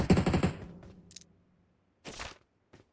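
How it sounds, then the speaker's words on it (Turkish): A rapid burst of booming cannon shots opens, followed by a few scattered distant pops and a sharp crack, video game gunfire with silence between. "Buradan bir top sesi geldi ama"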